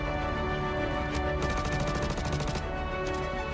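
Rapid automatic gunfire from the Star Citizen video game, a dense run of shots around mid-clip with shorter bursts after, set over a steady game soundscape with no talk.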